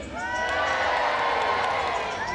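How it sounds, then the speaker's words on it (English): An arena crowd at the Crufts dog show cheers loudly for the red team dogs in a display run, a sustained roar of shouts and whoops swelling at once and holding, with scattered high voices on top. "I would like to give a nice big cheer on the count of three for the red team dogs"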